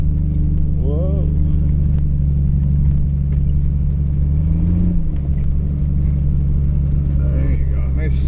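A vehicle on the muddy Eldorado Canyon trail holds a steady throttle, its low engine rumble droning loud and constant throughout, with a person's voice briefly heard over it.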